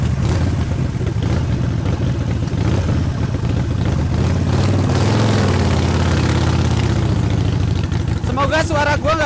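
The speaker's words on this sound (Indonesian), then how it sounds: "Semoga suara gue gak ketutup suara knalpot Harley. Menggelegar banget ini." Custom Harley-Davidson Sportster 1200 Low rumbling loudly during a test ride, a deep continuous engine drone with swelling revs, while a rider talks over the exhaust.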